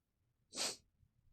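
A single sharp human sneeze bursts out suddenly in a quiet room. It is brief and close, with a little faint breathing around it.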